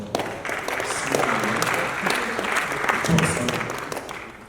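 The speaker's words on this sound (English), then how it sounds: "give them a round of applause" Audience applause at the Africa's Talking Summit 2023, steady moderately loud clapping from a conference crowd lasting several seconds, with a few voices faintly audible underneath.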